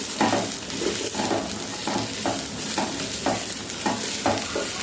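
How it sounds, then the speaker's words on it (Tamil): Dried red chillies frying in a pan for a cluster bean chutney, stirred in a regular rhythm of about nine scraping strokes over a continuous sizzle, close up with no voices. "சேர்த்து கிளறி விட்டுக்கலாம்"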